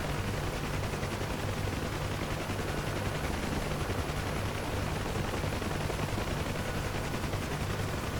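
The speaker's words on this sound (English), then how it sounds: "Oh, there we go, first shots." Dense, continuous gunfire crackles without a break around a UH-1H Huey helicopter in a combat flight game, a steady loud barrage with a rotor-like drone underneath and no speech.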